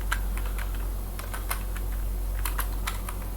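Fingers type a firewall command on a computer keyboard under Gentoo Linux, making quick irregular key clicks close up with brief pauses, and no one speaks.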